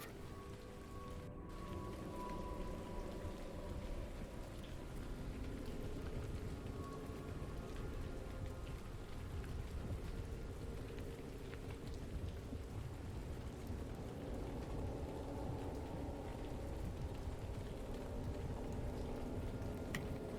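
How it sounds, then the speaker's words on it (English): Steady rain drums on a wooden roof throughout, with a low rumble of thunder rolling underneath; no voices. "You hear rain on the roof. Crack of thunder shakes the boards a bit."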